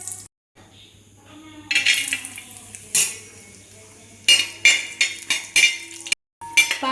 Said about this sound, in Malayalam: ഉരുളിയിലേക്ക് കുറച്ച് നെയ്യ് ഒഴിച്ചിട്ട് ചണ്ടിപ്പരിപ്പ് ഒന്ന് ഫ്രൈ ചെയ്തെടുക്കാം